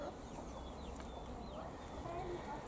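Chickens clucking outdoors beside a duck pond under renovation, faint scattered clucks and chirps over a steady background of outdoor noise.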